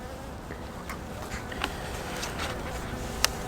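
Honeybees buzz inside a beehive in a steady, close, continuous drone, with a few brief clicks and knocks from handling the hive frames.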